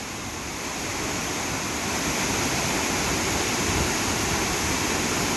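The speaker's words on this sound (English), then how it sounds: "Aurora and Andrew are about to go in the cave beneath Las Brisas waterfall." Las Brisas waterfall near San Miguel del Puerto, Oaxaca, roars as a dense, steady hiss of falling water, loud and close without a break.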